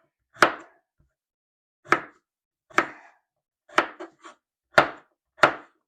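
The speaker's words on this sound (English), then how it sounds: "We're going to cube our potatoes." A knife chops through potatoes on a cutting board while they are cubed for chicken soup: six crisp, separate thuds spaced about a second apart, with one brief double tap in between, close and clear against silence.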